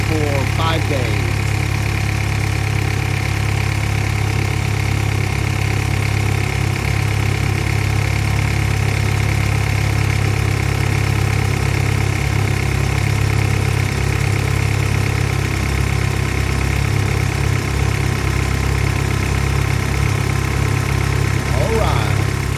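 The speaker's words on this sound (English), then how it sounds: "a cold start. It's been sitting here for 5 days." A BMW M3 that sat for five days idles after a cold start with a steady, loud, even engine drone throughout.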